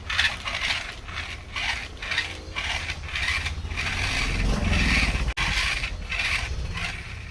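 A licensed Mahindra metal toy tractor drives and turns in a tight space, making a steady, busy mechanical whir and clatter with rhythmic pulsing, close by and fairly loud, with one sharp click partway through.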